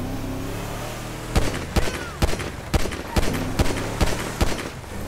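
Gunfire in GTA 5 during a getaway: about nine sharp, loud shots in an irregular series over a steady car engine drone.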